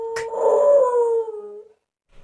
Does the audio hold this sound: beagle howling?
yes